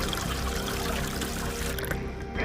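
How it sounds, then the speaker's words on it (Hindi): Water pours steadily into a pond with a continuous splashing rush that stays fairly even throughout, then thins slightly near the end. "सिपाही उस तालाब में और पानी भरते हैं।"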